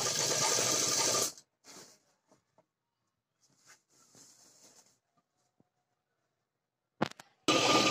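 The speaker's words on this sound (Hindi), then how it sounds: "एक पैर की सिलाई लगाते हुए चलना है।" Sewing machine stitching a seam along one leg of a pair of ladies' pants, running in a loud burst at the start and again at the end, with faint handling noises and brief clicks in the quiet stretch between.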